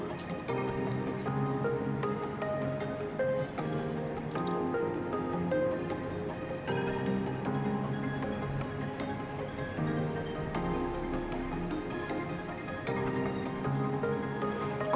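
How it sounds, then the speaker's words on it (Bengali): Marinated chicken is lightly fried in a pan with little oil, giving soft, wet squishing and dripping sizzles that continue throughout at moderate volume alongside background music. "তার মধ্যে আমি ম্যারিনেট করা চিকেনটা একটু ফ্রাই করে নেব"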